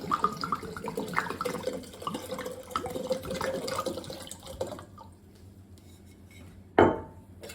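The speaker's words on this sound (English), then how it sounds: "So I'm just going to fill this up with tap water and pour that in" Tap water runs from a faucet and pours into a glass bottle for making red wine vinegar, a continuous splashing gurgle for several seconds that stops, followed by a single sharp clink of glass, with no voices.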